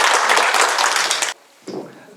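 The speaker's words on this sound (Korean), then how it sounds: "박수 부탁드립니다." Lecture audience applauding a poet introduced on stage, dense steady clapping that stops abruptly, followed by a brief moment of a voice speaking.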